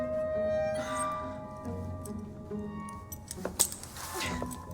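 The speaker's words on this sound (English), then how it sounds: "Now hand over your keys." Keys jingle and clink as they are handed over in Assassin's Creed Syndicate, with a faint hum beneath and a brief burst of metallic jangling near the end.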